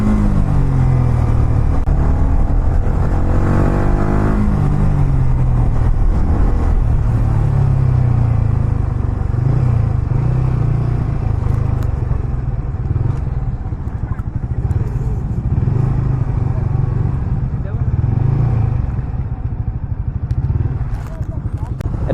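A Yamaha R15M motorcycle riding on a road, a loud steady engine drone with wind rumble and a rising rev early on, while a rider talks over it.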